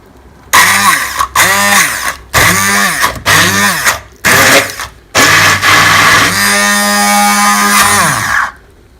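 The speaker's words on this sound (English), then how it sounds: "And start blend it using your immersion blender." A loud, whirring immersion blender runs in short bursts and then steadily, its pitch rising and falling as the blades churn white beans and vegetable oil into a thick paste.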